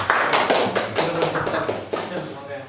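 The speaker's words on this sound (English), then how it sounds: "Please clap for her." A classroom of students claps for a classmate: a short burst of brisk, fairly loud hand claps with an uneven rhythm that thins out over a couple of seconds.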